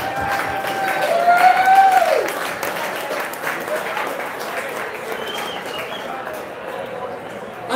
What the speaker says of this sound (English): Round of applause for all the athletes.